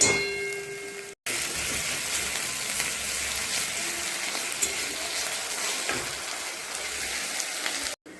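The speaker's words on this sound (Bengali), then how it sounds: "পেঁয়াজটা ভালো করে ভেজে নেব।" Chopped onions fry in a pan for a mutton curry, making a continuous hissing sizzle with light stirring scrapes, briefly cut near the start and end.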